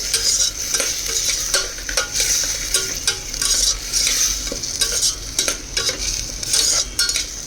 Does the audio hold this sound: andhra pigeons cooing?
no